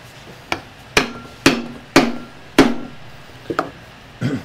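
Rigging screws are driven into a western saddle tree with about eight sharp, close hammer-like knocks at uneven intervals, each ending in a brief woody ring.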